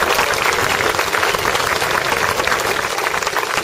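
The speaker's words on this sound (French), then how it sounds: "Je vais vous demander de les applaudir" An audience claps loudly and continuously for volunteers at an evening show, the dense applause filling the room without a break.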